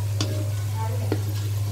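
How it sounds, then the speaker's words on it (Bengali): Beresta, sliced onions, frying in oil in a home kitchen, giving a steady low sizzle with a couple of faint clinks. A constant low hum runs underneath. "বেরেস্তা ভাজছি"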